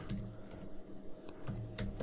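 Soft, scattered keystrokes on a computer keyboard while working in Revit 2024 software, faint and close over a low steady hum, with irregular clusters of taps and no speech.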